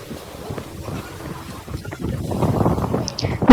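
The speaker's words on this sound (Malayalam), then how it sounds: "നമ്മളുടെ ബോട്ട് പോവാൻ തുടങ്ങി." A crowded boat on a sunset cruise in the Maldives gets underway, low rumbling engine and water wash rising with gusts of wind noise against the microphone.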